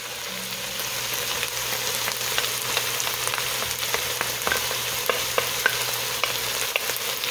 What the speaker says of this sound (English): So at this point, I'm going to go ahead and put the garlic in.